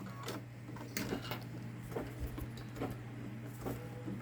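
A Babylock Solaris Vision embroidery machine stitches a garden gnome design, making a steady mechanical hum under quick, regular ticking needle strikes, close and moderately loud.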